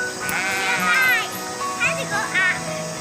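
Sheep bleat on an Australian farm, with several wavering calls close by and children's voices chattering around them.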